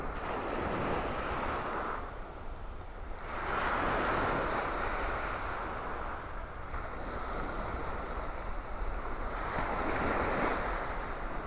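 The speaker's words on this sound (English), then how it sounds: "That water is still kind of rough, churned up." Rough, churned-up ocean waves at a beach in North Naples, Florida: a steady roar of surf with swells rising and falling every few seconds, carrying wind noise, and no voices.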